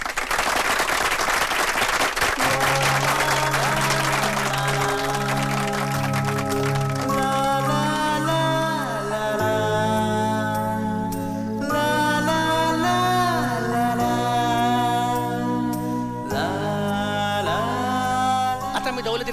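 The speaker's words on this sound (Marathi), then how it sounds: "प्रचंड टाळ्या." Loud applause from an audience at a felicitation ceremony during a Marathi folk dance stage show, a dense burst at the start that continues under loud, steady instrumental music throughout.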